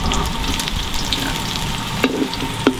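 Garlic frying in a pan, a steady close sizzle with occasional stirring scrapes and small pops, loud and continuous without any talking.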